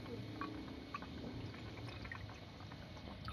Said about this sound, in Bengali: বাটিতে একটু জল নিয়ে নেব।